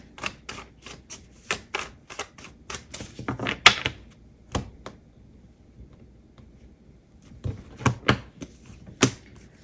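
Tarot cards are drawn and handled in a series of sharp, close clicks and soft slaps, clustered at first, then a quiet gap before a few more distinct snaps near the end, with no talking.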